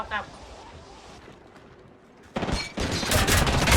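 Gunfire in the video game Apex Legends: after a quiet stretch, loud dense bursts of shots break out and continue steadily to the end.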